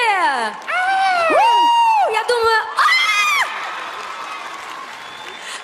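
A concert crowd erupts in cheering, whoops and applause for the performers, loud and close, with excited shouts rising over the clapping before it fades into a general din; someone speaks briefly at the start.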